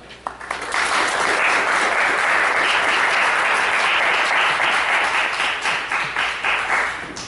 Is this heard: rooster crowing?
no